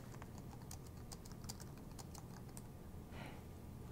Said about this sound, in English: Let's practice this technique when typing the word cafe.